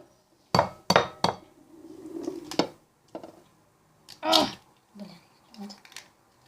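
Two eggs being cracked into a bowl for a microwave omelette, with sharp shell taps and clinks against the bowl edge in quick succession, followed by softer handling sounds and a brief bit of speech.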